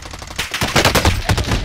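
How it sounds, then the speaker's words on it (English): Rapid bursts of gunfire ring out in a video game shooter, a quick string of sharp shots building in loudness over a second and a half, close and without speech. "I legit got shot behind the wall"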